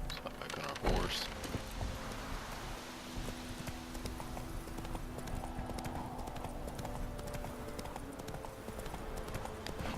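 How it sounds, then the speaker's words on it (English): Horse hooves clip-clop in a steady rhythm throughout, with a brief louder thump near the start and faint ambient noise beneath. Game audio from The Witcher 3. "Let's hop back on our horse."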